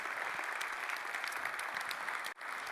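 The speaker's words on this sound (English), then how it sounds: "give the Data Innovation Summit team a big applause for organizing such a fabulous event" Conference audience at the Data Innovation Summit 2023 applauding the organizing team, a dense, even roar of clapping from a large crowd that cuts off abruptly near the end, then resumes faintly.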